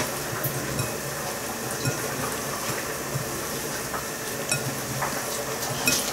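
Green pea aquafaba stirred in a pan, with a steady scraping and bubbling texture and a few soft clinks along the way, fairly quiet and without talk.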